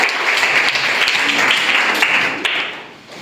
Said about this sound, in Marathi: यशसाठी सगळ्यांनी टाळ्या वाजवायच्या